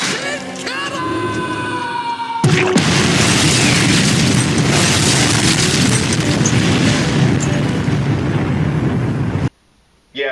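An explosion in the Thomas and the Magic Railroad film: a sudden loud boom follows a brief musical passage, then a sustained roaring rumble of debris that cuts off abruptly near the end.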